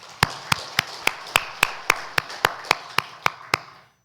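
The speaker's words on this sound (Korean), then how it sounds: "우리 박수로 축하합시다" A church congregation claps together in unison, about a dozen sharp, evenly spaced claps in a steady rhythm, clear and close, with no talking over them.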